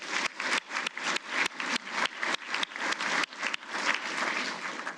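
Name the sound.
applause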